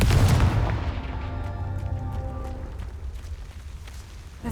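Confringo fire spell striking in Hogwarts Legacy, a heavy booming blast that opens loud and then rolls off into a long, rumbling decay with crackling debris, with no talking over it.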